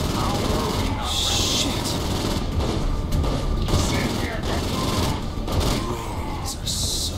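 Rapid bursts of gunfire in Saints Row IV crackle and boom in quick clusters over a dense, noisy background of game sounds.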